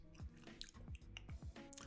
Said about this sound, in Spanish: Ahora estoy masticando grumos.